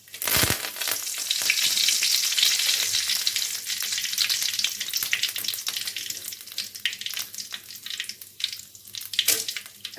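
Mustard seeds and dried red chillies frying in hot oil for lemon rice, a loud close sizzle and crackle that starts abruptly and gradually settles, with faint stirring clatter.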